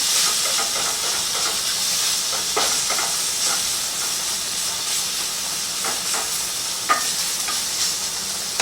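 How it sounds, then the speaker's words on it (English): Pork sausage browning in a pan for rigatoni rosa: a constant close sizzle and steamy hiss, broken by occasional stirring clicks and scrapes, with no talking. "We'll continue to stir while we're browning."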